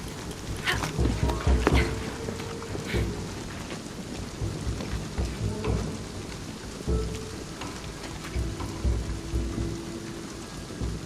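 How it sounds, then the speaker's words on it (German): Heavy rain and rolling thunder from a storm in Shadow of the Tomb Raider, a steady downpour with several loud rumbles and cracks throughout, no speech. "Der Sturm kommt ziemlich schnell."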